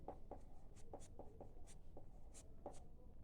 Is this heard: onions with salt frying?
no